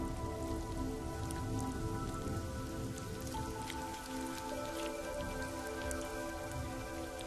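Steady rain patters down on surfaces, a dense even hiss with scattered drips and a faint droning hum underneath.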